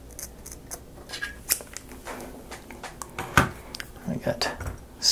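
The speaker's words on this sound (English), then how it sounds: "Take, trim down the bristles on this one." Scissors trim down the bristles of a small paintbrush at a crafting table, faint close snips in irregular bursts with a brief voice in between.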